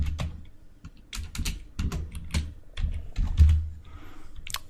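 Steady typing on a computer keyboard, with uneven bursts of clicky keystrokes running through the whole stretch, close and fairly loud with no talk over it.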